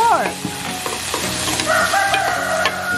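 Vegetables and pork sautéing in a pan, with continuous close sizzling and frying broken by scraping stir strokes, and no talk.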